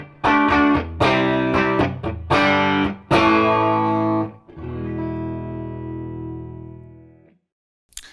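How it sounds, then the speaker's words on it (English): An electric guitar through an overdriven Dr. Z Octal 6 tube amplifier plays a few distorted chords and riffs, then rings out on a long sustained chord that fades into silence. "The amp will bring you to a smooth overdrive and distortion"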